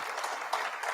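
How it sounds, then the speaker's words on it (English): Steady applause from a conference audience at an opening ceremony, a brief dense wash of clapping at moderate loudness with no voices over it. "Let's give them another round of applause"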